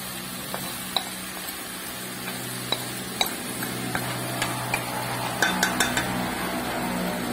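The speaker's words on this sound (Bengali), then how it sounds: "এখন আমি ভালো করে আস্তে আস্তে নেড়ে মিক্স করে দিব। ভাজা মাছটা সুন্দর করে মিক্সড করে" Pieces of fried fish are stirred gently in a pan with moong dal, a soft steady sizzle under repeated light taps and scrapes of a spatula against the metal, close and without talk.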